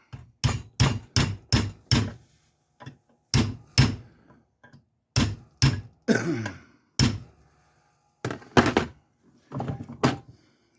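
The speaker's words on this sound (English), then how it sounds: "sledgehammer" A sledgehammer strikes a metal bar in bursts of sharp, loud, close blows, several quick hits at a time separated by short pauses, with no talking.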